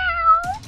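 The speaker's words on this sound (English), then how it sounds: "Yeah, that's a kitty." A single short cat meow, clear and close, a drawn tonal cry that rises slightly before ending in a breathy tail.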